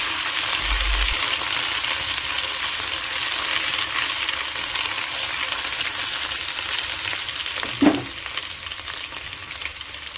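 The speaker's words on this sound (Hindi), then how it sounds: "अब इसमें लहसुन अदरक का पेस्ट ऐड कर दिया है और उसको थोड़ा कुक करते हैं।" Steady sizzling and crackling of garlic ginger paste frying in a hot pan, close and continuous, with a brief clink of a utensil near the end.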